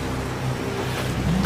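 Rushing water of a waterfall in rugged wild terrain, with the flow swelling as the water level rises; a steady, dense, roaring wash of noise throughout with no voices.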